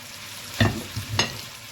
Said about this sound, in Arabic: وابتدي اقلب كده المكونات كلها مع بعض